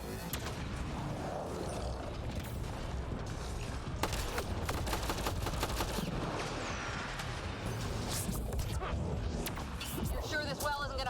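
Turret gunfire in the video game Mass Effect: Andromeda, a dense barrage of rapid shots and crashing impacts over several seconds, under a busy mix of battle noise.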